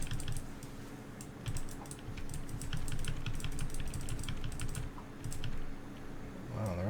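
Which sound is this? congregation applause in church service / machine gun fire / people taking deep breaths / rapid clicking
rapid clicking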